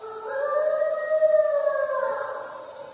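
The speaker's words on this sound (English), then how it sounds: "the hoots, howls, and growls often associated with the presence of a Bigfoot" An alleged Bigfoot howl from a recorded tape: one long, sustained wavering call that swells and slowly fades over about three seconds, heard alone with no talk.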